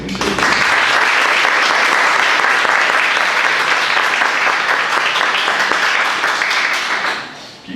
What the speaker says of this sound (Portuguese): Paulo e Aleia, gostaria que vocês recebessem uma salva de palmas, porque eles merecem